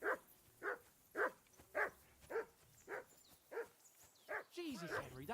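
A dog in the medieval video game Kingdom Come: Deliverance II barks repeatedly in a steady rhythm, about nine loud, close woofs, with a muffled voice breaking in at the very end.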